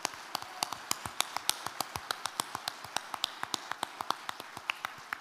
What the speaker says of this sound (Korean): 앞으로 대한민국 건설산업을 책임질 미래의 건설인에게 깊은 감사와 환영의 박수를 부탁드립니다.